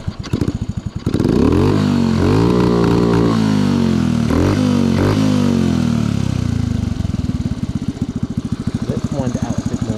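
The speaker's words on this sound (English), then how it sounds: "There's a sputter, I don't know. It could be the carburettor." An old motorcycle with an aged carburettor idles and revs near at hand, its engine sputtering and popping unevenly as the throttle opens and drops back, with someone talking over it at times.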